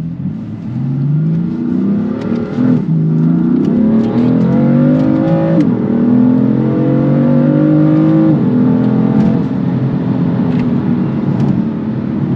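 A BMW M2 accelerating in manual mode, its engine note climbing in loud rising sweeps through several gear changes, each shift dropping the pitch before it climbs again, heard close and continuous from inside the car.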